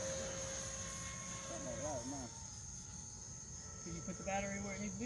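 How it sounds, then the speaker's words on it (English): A Freewing L-39 Albatross 80mm electric ducted-fan RC jet cruises at half throttle, its steady whooshing drone continuous and fairly distant, with faint outdoor background sounds and occasional chirps rising over it. "the L-39 is just cruising around at half throttle and doing a good job."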